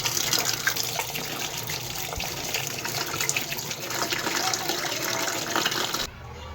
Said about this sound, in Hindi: फिर हम इन्हें मसल कर धो लेंगे 3 से 4 बार।